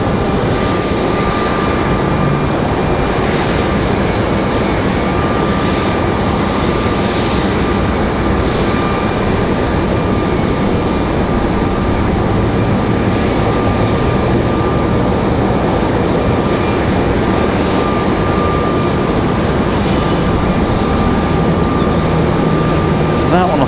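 Small flight-school training airplanes fly around Raleigh-Durham International Airport. A loud, unbroken engine drone and roar fills the whole stretch, steady and close, with no clear talk over it.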